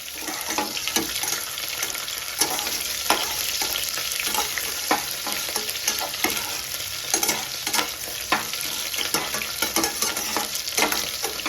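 Shallots and garlic sautéing in a pan, a steady close sizzle with frequent scraping stir clicks of a spoon throughout, no voices.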